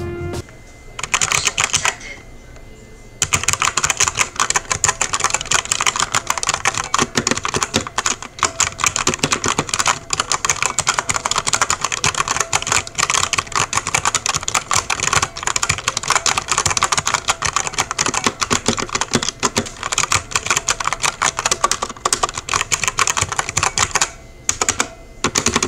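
A mechanical keyboard clatters with rapid, continuous keystrokes, close and loud, sustained for about twenty seconds after a short pause near the start.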